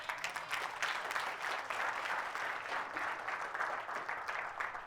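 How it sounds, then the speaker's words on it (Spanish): A church congregation applauds during a sermon, a faint, steady patter of many hands clapping together for several seconds, heard from a distance. "Un aplauso a mi Señor Jesús."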